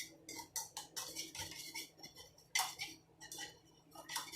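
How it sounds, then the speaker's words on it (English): A fork whisking a dressing in a bowl, a quick steady run of light metallic clinks and scrapes, close and fairly quiet with a faint steady hum behind. "we're gonna whisk this. So I don't have a whisk, but I do have a fork."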